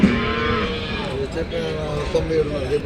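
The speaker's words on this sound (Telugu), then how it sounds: "ఇక్కడ కూడా కాడి ఎద్దులు అయితే ఉన్నాయి, చూద్దాము." Yoke oxen and cattle at the Punganur livestock market, with lowing and moos rising over a dense, continuous crowd murmur and steady chatter throughout.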